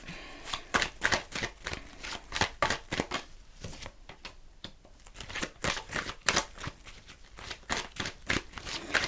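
A deck of tarot-style cards is shuffled by hand, producing a rapid run of crisp, close riffling slaps and flicks with brief pauses between bursts.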